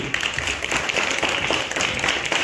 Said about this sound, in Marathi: त्या बॅचसाठी जोरदार टाळ्या वाजवा